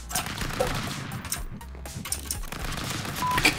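Rapid gunfire in the video game Stick Fight: bursts of machine-gun style shots and scattered single pops, moderately loud and continuous, with game sound effects mixed in.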